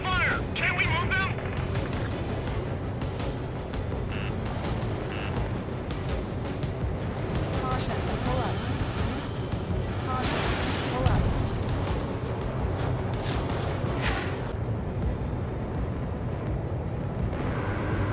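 Explosions and gunfire striking ground vehicles in the video game Ace Combat 7, a dense, continuous rumble of blasts and shots with engine drone beneath, and voices speaking over it.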